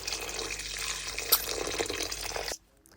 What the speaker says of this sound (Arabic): وتوا قاعدة نضيف بشوي بشوي الماء